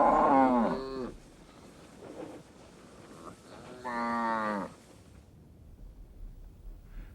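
Cattle on grazing land give two long, deep moos, the first loud and close and the second a little softer, with quiet open-air stillness between and after them.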